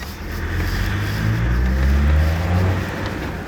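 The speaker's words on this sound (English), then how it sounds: "you'll recognise the sound of this as the TD5, which is a very, very characterful sounding engine indeed" A Land Rover Defender's TD5 diesel engine rumbles steadily nearby, its low drone swelling slightly as it revs, with no talking.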